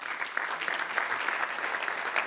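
A conference audience at a digital advertising event claps briefly, a brisk, busy patter of many hands with individual sharp claps standing out, steady across the moment.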